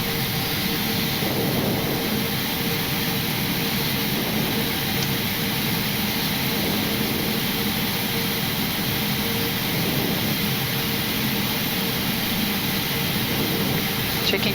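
Jet engines of an Ethiopian Boeing 777-200LR idle after start, heard from inside the cockpit as a steady broadband roar with a thin high whine, continuous and even throughout.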